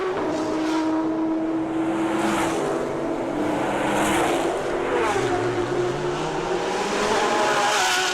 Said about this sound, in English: Listen to the V8s of those Supras.